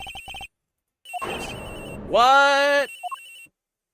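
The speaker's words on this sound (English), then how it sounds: "Ringing's coming from in here, sir." A cell phone rings from inside a locker in an Ace Attorney Investigations game scene, with electronic tone bursts, then a hiss-like effect and a sustained melodic ring tone. Brief game sounds frame it, and a voice speaks once near the start.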